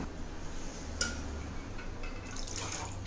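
Water is poured into a cooking pot of moong dal, giving a short, soft splashing fill with a brief clink near the start and a livelier pour toward the end, heard close with no talking.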